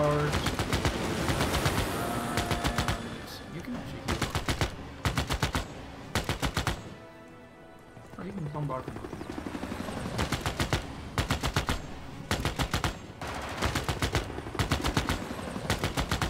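Rapid bursts of machine-gun fire from a unit attack in Civilization VI, loud repeated volleys in several clusters separated by short lulls, with helicopter-like whirring underneath.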